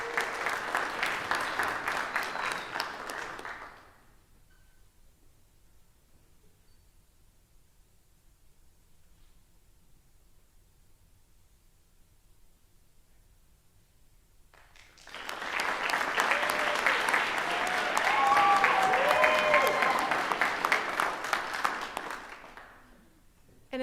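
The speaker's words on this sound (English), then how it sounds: "And another big round of applause for our Master of Science in Nursing." Two bursts of enthusiastic applause from a crowd at a nursing hooding ceremony, the first fading out after a few seconds, then a quiet gap before a louder, longer round of clapping.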